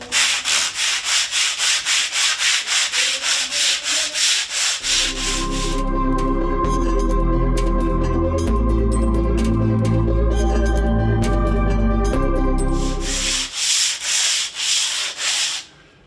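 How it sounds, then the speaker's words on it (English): Low-dust sandpaper scrubs across a wall in rapid, rhythmic back-and-forth strokes, loud and close, with a stretch of heavier rumbling rubbing in the middle before the quick strokes resume. "This sandpaper is a low dust sandpaper"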